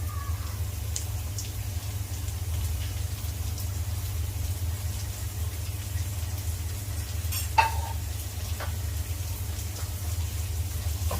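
Shallots and onions sizzle steadily in a pan for a Kerala-style venison roast, a continuous close frying hiss over a low hum, with one brief clink of a utensil partway through, and no talk.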